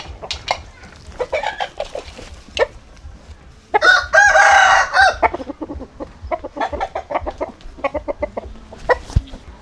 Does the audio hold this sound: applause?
no